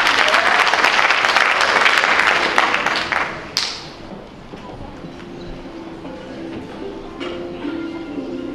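An audience at a Romanian language olympiad event applauds warmly for a few seconds, the clapping then thinning and fading into quiet room noise with scattered faint claps and movement.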